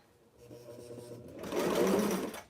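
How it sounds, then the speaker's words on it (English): Sewing machine stitching a Western Patsy blouse, overlapping earlier stitches: a close, even mechanical hum that gains speed and loudness partway through, then eases off, with no talking. "I'm just going to kind of start and overlap some of the stitches that I did previously"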